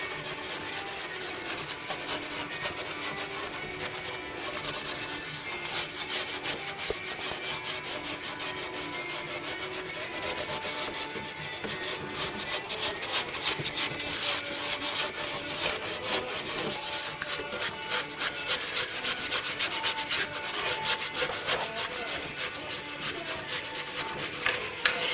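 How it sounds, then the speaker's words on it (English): A cloth soaked in thinners rubbed inside the metal boot box of a Mk3 Ford Cortina under restoration, a steady scratchy scrubbing with quick repeated strokes, close and moderately quiet throughout. "I'm just going to clean the inside of the box while waiting for that epoxy to cure."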